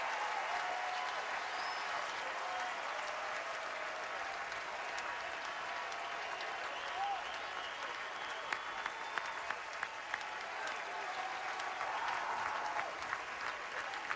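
A baseball crowd at a 2014 Super Regional game between Texas and Houston applauds and cheers in a dense, sustained roar that fills the stadium without pause.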